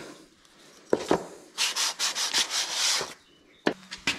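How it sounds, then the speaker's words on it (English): Fine 400 grit sandpaper rubbed by hand over a surface on a Troy Bilt tiller engine, making a short burst of close, loud scratchy strokes in a quick back-and-forth rhythm, with a few scrapes before and after. "Fine sandpaper. And there may be arguments on what grit, but this is actually 400 grit."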